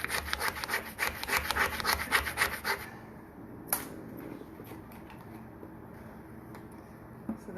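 A piece of wood is trimmed by hand, with about three seconds of rapid rhythmic rasping strokes, then quieter scattered scrapes and a single sharp tap.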